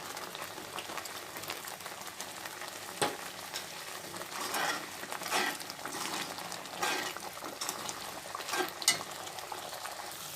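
A thick bottle gourd halwa bubbles and sizzles in a pan, with soft popping and occasional stirring scrapes, close and fairly quiet.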